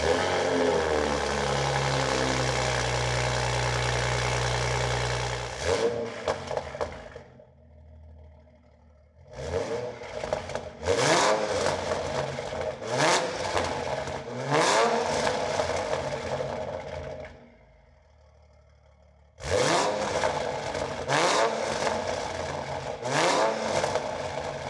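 A Toyota Supra on an HKS build, fitted with a new exhaust with titanium tips, idles with a deep steady drone and then blips through several sharp, loud revs separated by short quiet gaps.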